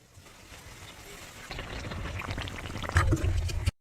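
Brinjal slices for beguni drop into hot frying oil. After a quiet start, a dense crackling sizzle bursts in and builds, turning louder and more spattery before stopping abruptly.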